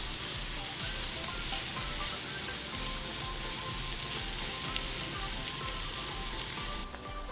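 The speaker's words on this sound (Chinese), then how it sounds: "爆香蒜粒，倒入苦瓜， 翻炒" Bitter melon stir-fried with fried garlic in a hot oiled wok over medium-high heat, a steady, close, loud sizzle with faint scraping of stirring, unbroken and without talk.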